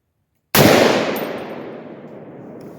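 A single loud, close shot from a Palmetto AR-10 rifle on gas position 2, firing a 150 gr .308 round, with a sharp crack that rings out into a long fading tail.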